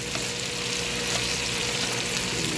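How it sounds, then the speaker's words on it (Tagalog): Tomatoes being mashed and stirred in a pan as they sauté with cabbage, giving a steady, close sizzle and frying hiss with light scraping, without talk. "Ligis-ligisin ang kamatis."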